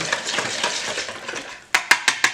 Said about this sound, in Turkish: Hamurumu birazcık daha karıştırdım.